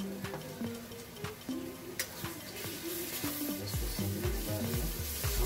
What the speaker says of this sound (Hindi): देखिए प्याज ब्राउन हो गया, अब लहसुन इसमें हम देंगे।